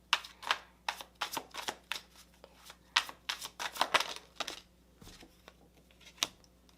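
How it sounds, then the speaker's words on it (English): A deck of tarot cards shuffled by hand, close and quiet, with repeated crisp riffling bursts and card slaps that thin out into a few sparse taps toward the end. "Let's get some tarot cards."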